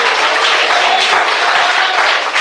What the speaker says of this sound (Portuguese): Quem entendeu, bate palmas.